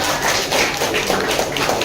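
A classroom of students claps hands together during an ice-breaking activity, a close, dense run of quick overlapping claps filling the short moment.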